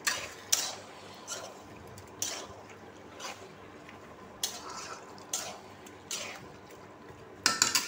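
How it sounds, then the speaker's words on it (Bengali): Washed chicken pieces being stirred and sautéed with spices in a kadai for spicy garlic chicken, with soft intermittent scrapes and clinks of a utensil against the pan repeating every second or so over a faint background hiss. "ধুয়ে রাখা চিকেনটাকে এর মধ্যে অ্যাড করে দিচ্ছি। এবার এটাকে কষিয়ে ভালো করে হতে দেবো।"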